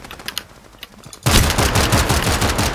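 Spray gunfire from the shooter game Strinova: after a few scattered clicks, a sudden loud, continuous burst of rapid automatic shots rattles on for over a second without pause.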